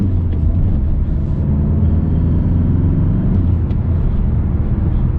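Mazda 6 CD150 diesel from 2019 gently speeding up on a night drive, a steady low engine rumble heard from inside the cabin, continuous and fairly loud with no talk.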